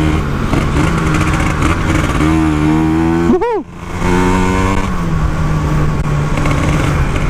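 An RX King motorcycle fitted with a Ninja 150 engine idles loudly close by, then revs sharply once in a quick rising and falling burst before settling back into a steady, buzzing idle.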